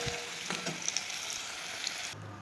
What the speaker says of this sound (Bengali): এই দেখুন আলুগুলো আমার ভাজা হয়ে গেছে